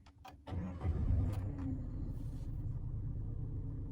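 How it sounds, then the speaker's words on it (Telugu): A 2021 Maruti Suzuki Ertiga VXi CNG starts with a brief crank, then settles into a steady, low idle rumble heard up close with no talking. "ఈ కార్ యొక్క ఇంజిన్ సౌండ్ ఒకసారి విందాం."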